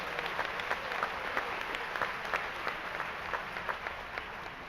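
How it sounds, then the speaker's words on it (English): A commencement convocation audience at Claflin University applauds in a sustained, dense round of clapping, with some sharper individual claps standing out from the steady wash of sound. "let's give him another round of applause"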